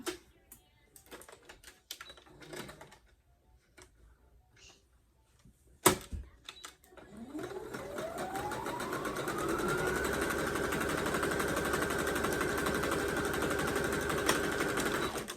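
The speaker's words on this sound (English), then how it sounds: "it'll get stuck in your machine, so make sure it's moving" A sewing machine stitching fabric for a bodysuit or unitard with a 1/2 inch seam allowance. A few scattered clicks and handling noises come first, then the motor spins up into a loud, steady whir that runs to the end.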